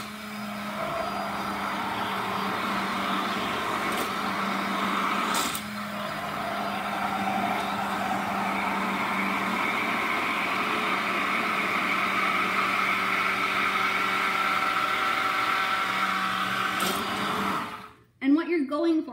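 A stick blender whirs continuously and loudly while mixing bacon-fat soap batter, a steady motor drone with slight pitch wavering that runs for most of the stretch before cutting off near the end.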